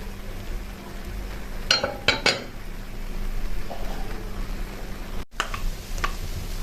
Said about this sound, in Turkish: Şimdi yeniden kapağımızı kapatalım.